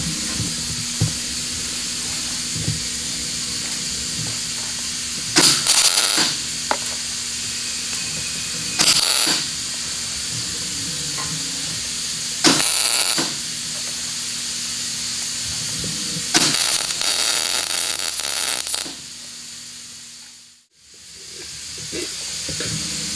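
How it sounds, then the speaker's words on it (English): Welding the sides of a metal box together, a steady loud crackling hiss of the arc broken by several short bursts of harsher buzzing, close up, before cutting out near the end. "what we're going to do is just start welding it together"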